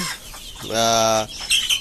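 A chicken gives a drawn-out clucking call, a clear nasal note in the middle, with shorter clucks and faint rustling around it.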